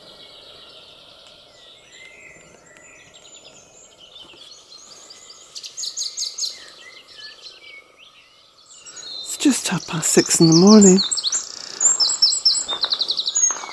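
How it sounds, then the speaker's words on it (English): Birds chirp and sing in a morning chorus at 6:30 am. The calls are faint at first and grow livelier, layered over a soft outdoor hum, with a person speaking partway through and bursts of close chirping near the end. "I'm woken up just by the sound of birds. It's like a, well, yes, it is a chorus"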